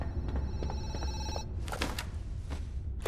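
A telephone rings inside a zoo management video game: loud, steady electronic bell trills repeat close up, then shift into a series of sharper ringing bursts.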